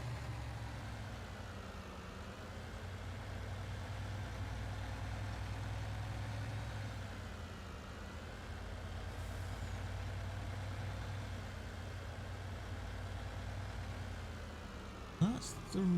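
A large truck engine idles in a farming video game, a steady low diesel rumble running throughout, with a brief air-brake hiss near the end.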